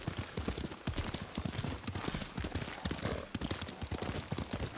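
Rapid, rhythmic clip-clop of a horse's hooves at a brisk gait while riding in Ghost of Tsushima, close and fairly loud, running continuously throughout with no speech.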